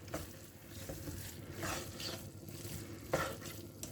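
Grated carrot halwa roasting in ghee in a pan, with a soft sizzle and repeated scraping stirs of a spoon against the pan, faint and close.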